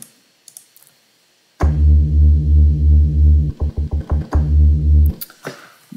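A thick, buzzy, unprocessed Moog synthesizer bass holds a sustained low note, then stutters in short rhythmic chops before sustaining again, loud and alone.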